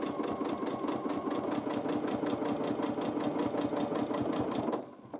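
A sewing machine quilting a baby quilt runs steadily at close range with a fast, even stitching rhythm, stopping abruptly near the end.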